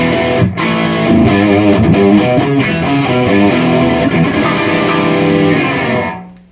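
Distorted Squier Classic Vibe '60s Jazzmaster electric guitar on the bridge pickup, chords ringing out loud and bright with a sharp, twangy edge, strummed steadily, then fading at the end.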